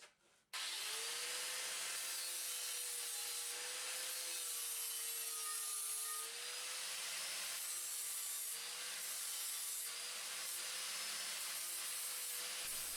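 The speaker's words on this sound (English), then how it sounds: "I'm going to use a 40 grit flap disc for that job" A 40 grit flap disc on an angle grinder dresses aluminium welds, giving a loud, steady whine with a sustained gritty rasp that runs unbroken and close-up from start to finish, with no talk.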